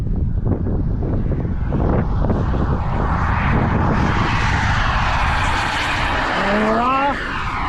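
A Global Jet Club Hummingbird RC jet with an ACEx-80 turbine takes off, its loud roaring whine building and rising in pitch as it climbs away, with heavy wind buffeting on the microphone.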